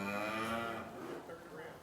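Cattle lowing in a long, drawn-out moo, close and fairly loud, in an open outdoor pen where cows are being worked.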